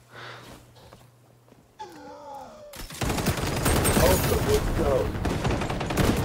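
Rapid bursts of gunfire from an XDefiant match, including ACR rifle and shotgun shots, erupt after a quieter opening with brief tonal game sounds, then stay loud and dense to the end, with a voice talking underneath.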